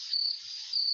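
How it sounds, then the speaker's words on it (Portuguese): A cricket chirps continuously in a steady high-pitched trill, fairly close and alone, with no voices. "Eita, professor, o que é isso? É um grilo."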